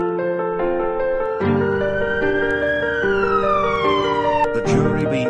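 A police car siren in the video game The Escapists 2 wails nearby, its tones sliding up and down in a repeating pattern, loud and alone with no talking.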